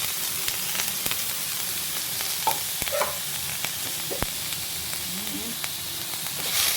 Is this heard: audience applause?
no